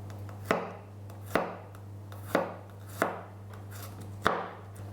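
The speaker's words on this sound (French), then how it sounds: "je vais hacher mes gousses d'ail." A knife chops garlic cloves on a board in about six separate, evenly spaced crisp strikes, with a steady low hum running underneath.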